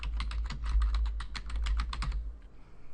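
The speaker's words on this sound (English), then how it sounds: "I'm going to actually type in some names that I want to follow" Fingers type names on a computer keyboard in a quick, steady run of light key clicks that fade out near the end, with no talking.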